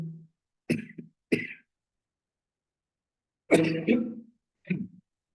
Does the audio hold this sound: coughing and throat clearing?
yes